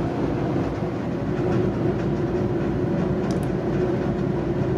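A Metrolink Arrow European-style passenger train passes close by on former Santa Fe track, a steady loud rumble and rushing roar with faint rhythmic wheel clatter that holds for the full stretch, no voices.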